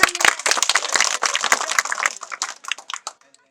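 Audience clapping at a Maithili comedy scene, a loud flurry of hand claps that thins into scattered claps and stops before the end.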